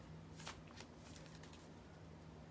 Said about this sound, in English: Okay, there's that one more shuffle.